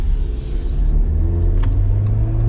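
A 2.0 turbo engine in a 2025 Jeep Wrangler runs with a steady low rumble and a mild rise in revs, heard close and fairly loud throughout.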